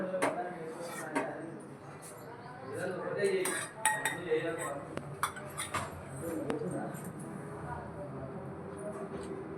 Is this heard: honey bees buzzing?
no